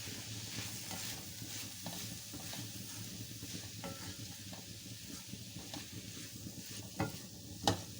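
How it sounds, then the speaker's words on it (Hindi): Macaroni with vegetables and spices gets stirred in a pan, with soft scraping strokes over a faint sizzle and a couple of sharper clinks of the spoon against the pan near the end; quiet and close. "मिक्स कर दें सबको।"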